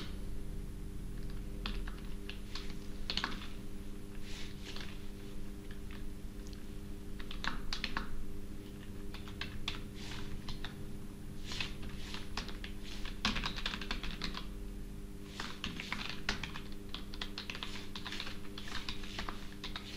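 Computer keyboard typing during a coding session, steady bursts of keystrokes running for the full stretch over a low constant hum, no voices.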